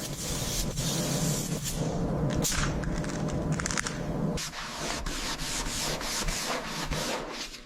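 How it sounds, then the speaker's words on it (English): Continuous abrasive rubbing of sandpaper against primer on a Chrysler car body, steady and close, with occasional light knocks and scraping strokes throughout. "Sanding again. We need absolute perfection for the paint."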